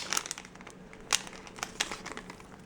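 Small nail scissors snipping and trimming Color Street nail polish strips, with a string of quick crisp clicks and crinkly rustles close up, some louder snips standing out, no talking.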